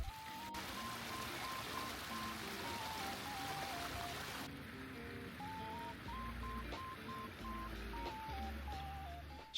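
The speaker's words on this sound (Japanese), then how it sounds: "丘の上からは滝が流れ、川のせせらぎを聞いていると涼しく大変心地よいです。" Babbling stream with a waterfall in a grassy park, a steady soft wash of flowing water with a gentle melodic tune playing over it.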